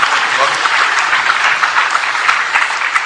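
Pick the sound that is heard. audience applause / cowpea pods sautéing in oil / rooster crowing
audience applause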